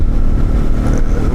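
Motorcycle with a loud aftermarket exhaust, a dense low engine rumble running steadily and loud throughout without any voices.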